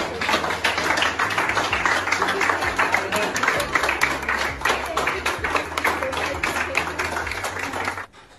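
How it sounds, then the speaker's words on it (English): Sustained applause from doctors and nurses at a hospital, steady and dense for about eight seconds, with some voices and background noise mixed in before it cuts off. "the applause from the doctors and the nurses was because only days earlier, Kim had been unconscious"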